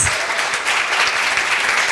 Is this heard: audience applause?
yes